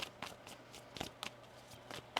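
A tarot deck is shuffled by hand in quick repeated riffles and slides, about a dozen soft, crisp bursts over two seconds, close and quiet, with no voices.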